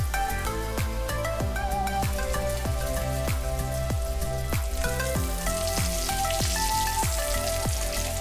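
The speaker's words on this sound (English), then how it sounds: "Then fry the chops until it is crispy and golden brown." Goan potato chops fry in hot oil in a pan, giving a dense, continuous sizzle with crackling pops, close and steady throughout with no voices.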